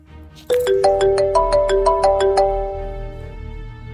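A bright electronic phone ringtone plays a rising, chiming melody of quick notes, clear and close, then fades out with no voices.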